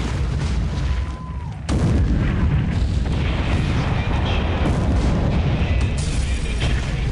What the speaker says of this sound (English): Hosho is now coming under fire